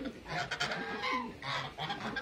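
Pigeons scuffling outdoors, tumbler pigeons in a loft, with throaty bird calls and flapping bursts that come in two clusters, close and fairly loud.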